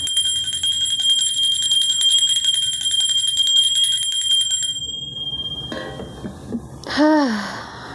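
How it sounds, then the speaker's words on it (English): A bell rings with a bright, sustained metallic tone that holds steadily for several seconds, then cuts off, followed by a few softer clinks and a short swooping chime near the end. "Let me ring a bell"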